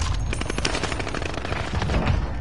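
Rapid bursts of gunfire in the video game Control crackle in quick irregular volleys, loud and close, with sharp repeated reports layered over a dense rumbling background.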